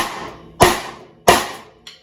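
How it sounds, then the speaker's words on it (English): A drumstick laid across a Pearl BLX drum strikes cross-stick rim clicks, giving three crisp, woody knocks at an even pace, the last one softer, close up and with no talking. "There's a natural way to click a rim."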